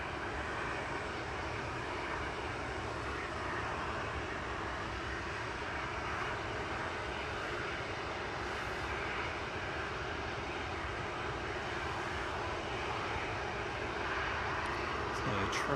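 An Emirates Boeing 777 at Manchester Airport gives off a steady, moderately loud jet engine rumble that continues throughout, with a voice speaking faintly over the noise.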